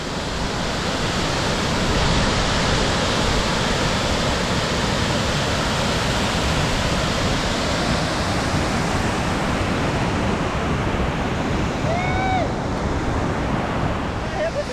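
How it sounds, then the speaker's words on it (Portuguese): A large waterfall on a trail in Serra da Canastra roars as a loud, continuous wash of falling water, steady and close, with wind buffeting the microphone. "Olha essa queda d'água."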